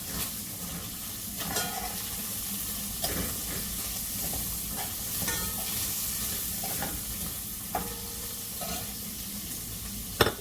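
Onions frying with thyme, garlic, scallion and saltfish in a pan for Jamaican ackee and saltfish, giving a continuous close sizzle and hiss with occasional stirring scrapes throughout.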